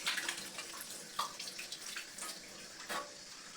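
Water runs from a newly installed kitchen sink faucet in a steady, splashing stream with small surges and spatters, fairly close and unaccompanied by speech.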